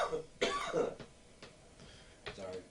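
A person coughs several times in sharp, separate bursts, with a throat-clearing quality, close to the microphone and with no talking.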